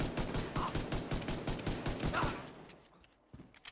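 Blind fire in a video game: a fast, steady run of gunshots with mechanical clatter that thins out and fades near the end, leaving a few scattered quieter sounds.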